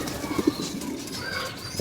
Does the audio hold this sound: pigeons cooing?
yes